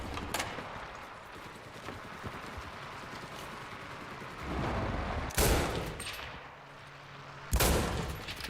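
Shooter video game gunfire: a dense, continuous rattle of machine gun bursts, then two loud, abrupt blasts near the end.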